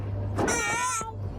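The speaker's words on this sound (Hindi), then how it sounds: "बिल्ली।" Cartoon cat meowing once, a single drawn-out, tonal, nasal meow of about half a second, clear and close over a faint steady background hum.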